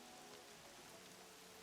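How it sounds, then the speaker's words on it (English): Rain falling in a video game, a steady even hiss of dense drops filling the background at low volume with no breaks. "why is it raining"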